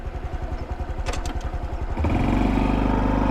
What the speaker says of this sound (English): I'm gonna take off in second gear.